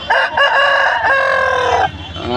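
At a native chicken market, a rooster crows loudly and close by in one long, sustained call that trails off near the end.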